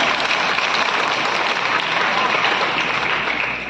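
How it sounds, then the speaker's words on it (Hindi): Loud, sustained audience applause fills the hall at a dance academy's fifth anniversary celebration, a dense steady wash of clapping throughout with no break. "और यहाँ तरुण जी का गाना मैं करें तो जोरदार तालियां हो जाए।"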